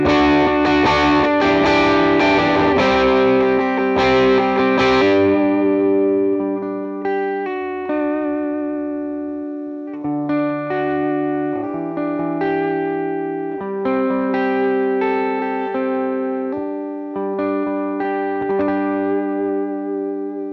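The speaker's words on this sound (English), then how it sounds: "if I were to pick harder, I have a more overdriven tone" Overdriven electric guitar plays heavy, sustained chords and ringing notes, loud and gritty with brief pauses between phrases.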